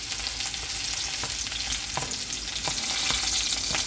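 Ginger garlic paste and curry leaves frying in a pan for fish patties, a loud, dense, continuous sizzle close up with faint stirring clicks scattered through it and no speech.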